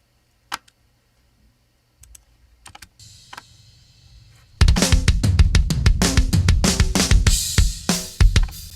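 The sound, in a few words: drum tom fill through tom submix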